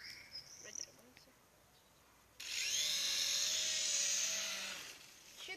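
A broken toy helicopter's motor and rotor spin up suddenly to a steady high-pitched whine that holds for a couple of seconds and then cuts off, preceded by faint handling noises in a quiet room.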